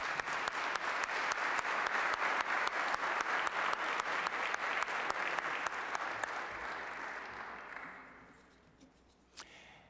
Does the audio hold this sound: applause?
yes